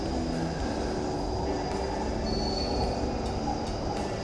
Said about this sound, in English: there's the tram coming out.